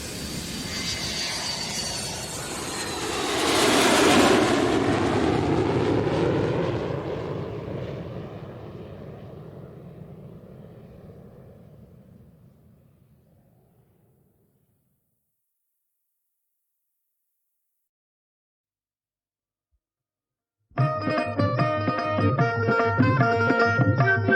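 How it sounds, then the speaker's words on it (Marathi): A fixed-wing airplane takes off, its jet engine roar swelling loudly within the first few seconds and then fading steadily into silence, followed by a burst of music. "विमानानं आकाशात झेप घेतली."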